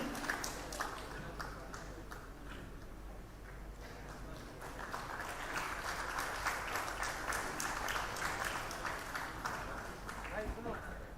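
An audience gives sustained applause to welcome Amar Ujala managing director Tanmay Maheshwari at the Samvad event, a dense clapping wash that grows louder midway, while a presenter talks over it.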